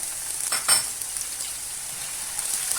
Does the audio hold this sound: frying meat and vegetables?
yes